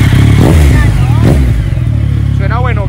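A motorcycle engine revs in several rising bursts, loud and close, over a steady idling rumble, with voices talking nearby.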